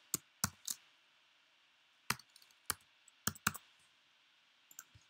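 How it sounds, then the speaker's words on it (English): Scattered, sharp keystrokes tap on a computer keyboard while a school code is typed, a few quick clicks in short clusters separated by pauses, quiet and close with no voices. "I type in a school code"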